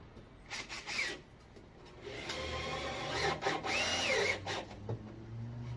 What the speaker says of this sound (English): we're using self-tapping screws as well, so they'll just go through the wood and through the metal of the van